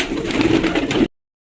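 A Lotan pigeon, white with a red face, coos in a soft, low rolling burr up close for about a second before falling silent.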